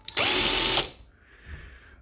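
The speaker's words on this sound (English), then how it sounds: "I'd be better off drilling a hole in my head." A power drill whirs loudly for about half a second at full speed, then cuts off; a fainter, softer mechanical whir follows briefly.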